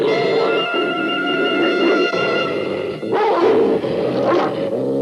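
Cartoon dogs bark and yip repeatedly with whimpering over a steady sustained musical tone, loud and close, with a burst of overlapping barks in the second half.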